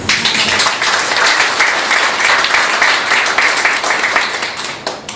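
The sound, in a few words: applause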